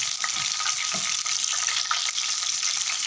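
Chicken pieces fry in hot ghee in a pan, giving a loud, continuous sizzle and crackle with occasional stirring noises and no talking.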